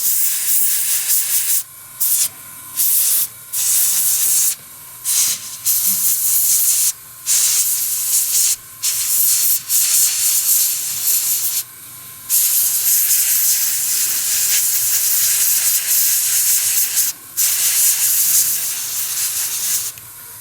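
Aerosol spray paint hissing onto a model tank's muffler in short bursts, about a dozen spurts of steady hiss separated by brief pauses, close and fairly loud with no talk.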